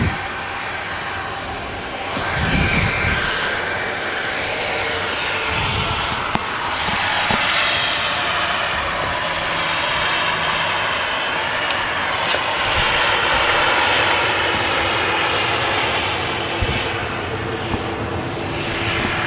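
A fixed-wing airliner's engines roar at Manchester Airport, a broad continuous rumble and whine that swells and holds at moderate distance for about twenty seconds, with faint outdoor background and no clear speech.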